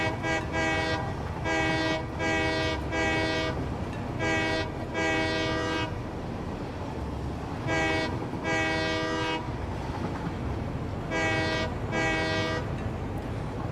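A train in Satisfactory runs with a steady rumbling roar while its horn sounds repeatedly, in short paired and grouped blasts separated by pauses, loud and close.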